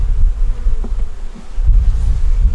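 Honeybees hanging in a hive and building out foundation, a low, dense buzzing hum close by, swelling and easing with a few faint knocks, no voices.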